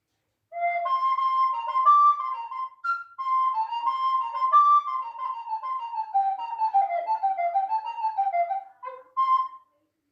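A recorder plays a bright, clear baroque trumpet melody with a whistle-like tone, a lively, ornamented line of quick notes, steady and prominent, with no voices.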